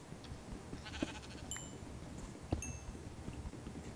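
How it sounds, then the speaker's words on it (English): Sheep bleating in the video game MoonQuest, a few short bleats standing out at moderate volume over a steady ambient game background. "And there's a sheep."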